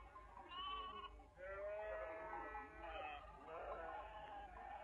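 Sheep at a well bleat in overlapping, wavering calls that continue throughout, with a steady low rumble underneath.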